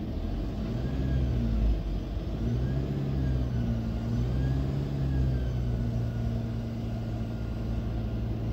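A car pulls away from traffic lights at a driving test route in Isleworth, its engine rumbling steadily and rising as it accelerates, heard from inside the vehicle without talk.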